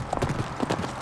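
Horses clip-clopping on a Native American prayer horse ride across northern Nevada, a brief burst of several hoof knocks in an uneven rhythm, close and moderately loud.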